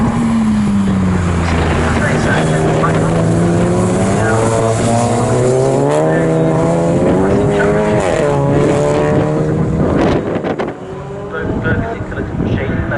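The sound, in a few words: race car passing at 750MC Enduro, Snetterton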